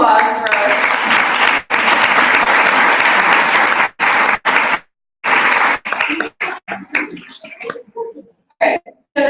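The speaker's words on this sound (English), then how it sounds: "So one more round of applause for us." Applause from an audience at a team monthly meeting, loud and sustained clapping for several seconds that breaks into scattered claps and pauses before trailing off.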